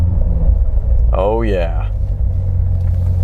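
A 2019 Chevrolet C7 Corvette Z06 engine rumbles at a steady, loud, deep idle throughout, with a man briefly exclaiming over it partway through.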